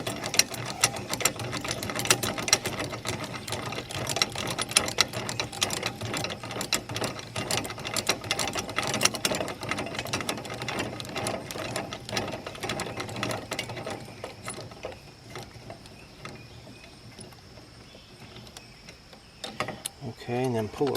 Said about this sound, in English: now our snap ring's back on, so we should be able to crank this thing around